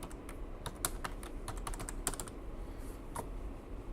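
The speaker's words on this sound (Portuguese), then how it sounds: "Vamos digitar um CPF." Rapid keystrokes on a computer keyboard entering a CPF number, an irregular string of close, light clicks over a faint steady background hum.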